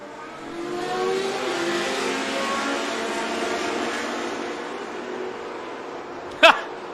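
A Panoz DP01 prototype race car roars away at the start of a vintage race at VIR, a loud sustained engine drone with a sharp click near the end.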